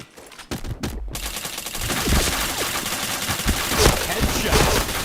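Rapid gunfire bursts from a Counter-Strike match, dense and continuous, with game sounds layered over the shots throughout.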